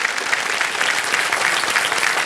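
Studio audience at a TV quiz show breaking into dense, sustained applause, loud and even across the short stretch, with no voices over it.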